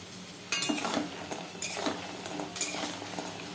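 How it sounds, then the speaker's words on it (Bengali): Bora fritters spiced with ginger, cumin, garam masala, turmeric and coconut frying in a pan: soft sizzling under several sharp metal spatula clinks and scrapes against the pan, close and without talking. "এই দিয়ে এই বড়াটা ভাজছি।"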